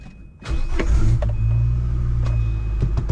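A Volvo 850 with an intermittent no-start fault, hooked to a jump starter, cranks in a steady, loud, low mechanical whir that runs close and continuous without catching.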